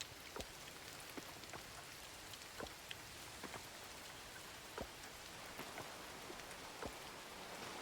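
Rain falls in the Coral Island video game, a soft steady hiss of drizzle broken by scattered drips landing near and far, with no talking.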